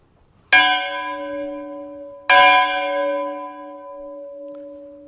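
An old bell formerly used at a prayer house rings twice, each loud metallic strike followed by a long, slowly fading hum, clear and alone with no talk.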